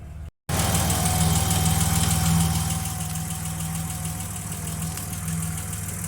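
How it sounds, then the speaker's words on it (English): An electric thermo radiator fan on a BMW E30 with an M30 engine runs beside the idling motor, a steady close hum and whir that drops slightly in level partway through, with no speech. "Fan just turned itself off again, slightly higher setting."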